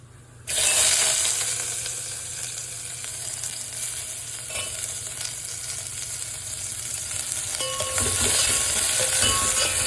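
Onion and asafoetida frying in a pan for a South Indian sambar, a steady loud sizzle that starts abruptly and holds throughout, with occasional stirring scrapes and clinks.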